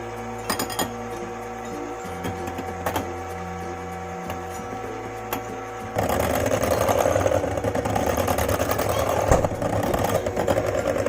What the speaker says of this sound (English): Beat it until it is frothy and light.